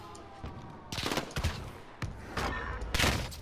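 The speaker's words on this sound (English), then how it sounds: "Taking fire here." Rapid bursts of automatic gunfire in the video game Call of Duty: Modern Warfare, several loud volleys crackling in quick succession over a steady battle din.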